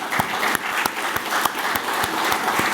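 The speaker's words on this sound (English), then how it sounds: "all of them deserve a big round of applause so that they can also hear it" Loud, dense applause from a conference audience, steady and continuous with sharp individual claps standing out, no speech over it.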